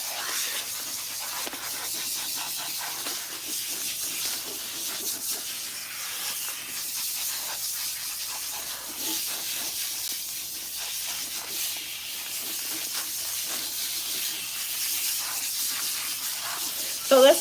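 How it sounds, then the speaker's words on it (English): Water runs steadily from a salon sink sprayer as hair is rinsed, a continuous close hiss that holds even from start to finish, with no speech over it. "I'm doing the hairline in the front first because you know that area is the most fragile. And then we'll start rinsing everything else."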